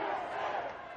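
Stadium crowd at the Silicon Valley Sevens rugby Cup final at Avaya Stadium, a loud, dense roar of many voices chanting and building, steady throughout.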